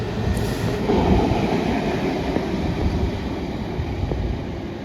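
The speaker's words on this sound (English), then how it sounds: "saw a Class 121 bubble car numbered 55022 Flora" A Class 121 bubble car diesel railcar passes on the main line, giving a steady, loud rumble of engine and wheels that holds throughout with faint rail clatter and no talking.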